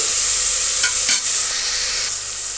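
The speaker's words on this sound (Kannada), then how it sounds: "ಇದು ಅಷ್ಟೇ ಒಂದು ನಿಮಿಷ ಫ್ರೈ ಆದರೆ ಸಾಕು" Vegetable biryani masala fries and gets stirred in a pan, giving a loud, close, continuous sizzle broken by a few scraping strokes.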